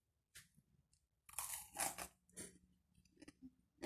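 Someone bites into and chews a crunchy homemade maruya, a banana fritter, still hot from cooking. The crisp crunches come up close in a few irregular bursts with quiet pauses between them, and nobody speaks.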